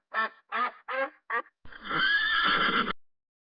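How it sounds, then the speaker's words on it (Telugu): A horse neighs up close and loud: a burst of four short, separate whinny calls, then one longer drawn-out neigh that fades away, with no other sound around it. "ఇంకా ఇవి గుర్రాలు"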